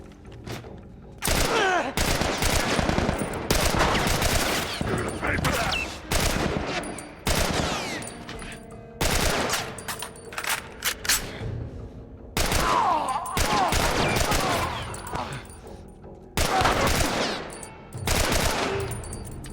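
Rapid automatic gunfire in The Last of Us Remastered, loud bursts of shots in repeated volleys separated by brief pauses, close and harsh, with no talking over it.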